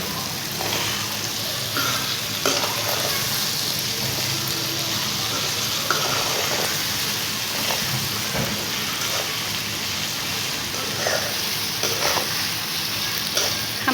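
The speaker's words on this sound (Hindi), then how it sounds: "इसी तरह फ्राई करेंगे और फिर हम इसमें टमाटर ऐड करेंगे" Okra and tomatoes fry and sizzle in a pan with steady crackling, broken by occasional scraping stirs, close and continuous with no talk.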